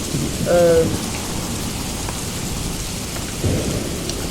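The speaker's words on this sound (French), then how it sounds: "il simule des bruits de pluie" Simulated rain from a rain-sound website hisses steadily throughout with soft rumbling, a couple of brief low swells and a faint tonal chirp near the start.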